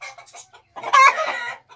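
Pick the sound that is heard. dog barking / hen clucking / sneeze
hen clucking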